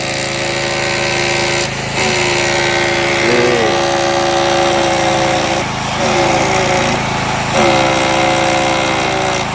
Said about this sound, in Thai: เครื่องปั่นไฟ เดินเครื่องเงียบ